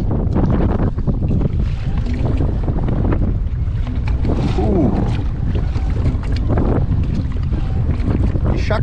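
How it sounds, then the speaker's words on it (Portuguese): Strong wind roars over a kayak on the Paraguay River in the Pantanal. Waves slap and splash against the hull under heavy, constant buffeting noise. "De tão forte que é o vento, as ondas estão subindo contra a correnteza"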